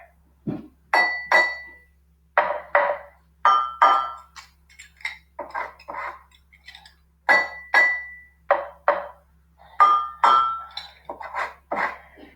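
A glass, a cup and a mug struck with a utensil in a repeating order: bright, ringing clinks in a steady cycle, each strike followed by a short decaying tone, with pitches that differ between the vessels.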